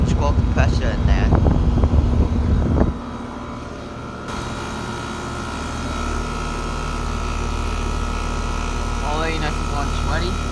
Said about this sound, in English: It has a gold Copeland scroll compressor in there.